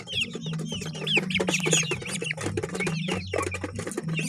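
Ornamental fowl cluck and call at close range, overlapping chicken-like squawks and chirps in a busy flock, with a low steady hum underneath and no talking.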